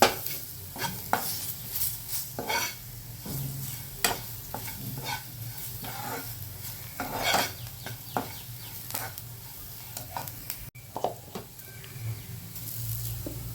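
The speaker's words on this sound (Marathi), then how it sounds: "कढीपत्ता देखील छान फ्राय होऊन द्यायचा यामध्ये" Curry leaves fry in hot oil in a pan for a pea and potato sabzi, a soft sizzle running under repeated scraping and stirring strokes, fairly close and with no voices.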